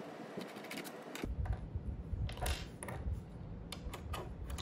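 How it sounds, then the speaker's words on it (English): A screw is worked loose inside a PS5 console, giving a busy run of small metallic clicks, ticks and scrapes close up with no talking. "You're gonna see this tab here that we have to unscrew."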